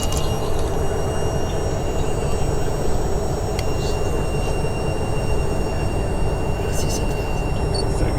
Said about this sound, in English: Looks like we got an empty coal train that,